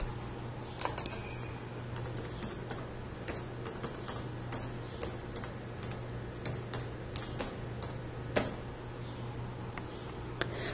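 Keys tapped on a computer keyboard, a steady run of light clicks closing with a double press of Enter, close and clear over a low constant hum.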